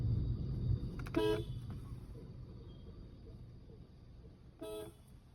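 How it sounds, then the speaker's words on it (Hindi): Two short car horn honks during a night drive near Jim Corbett National Park, one early and one near the end, over a low rumbling outdoor background. "एक बारी हॉर्न बजाता हूं।"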